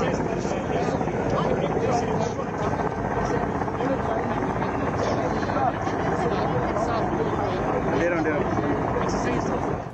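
A low-flying military helicopter during a training exercise over rugged hill terrain, its steady rotor and engine roar filling the whole clip at constant loudness, with voices talking over it.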